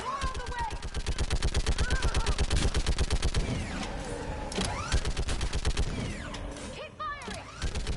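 Rapid automatic gunfire in the Mass Effect 3 video game, a fast rhythmic burst of shots that later breaks into scattered firing, mechanical clanks and shouted voices.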